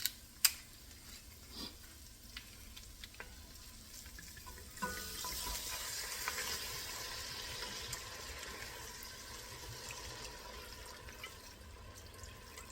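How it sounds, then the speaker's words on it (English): A pan of braised steak being deglazed with one cup of wine, a sudden hiss rising and settling into a steady, moderately loud sizzle and bubbling that continues alone. "I'm going to deglaze the pan with the wine"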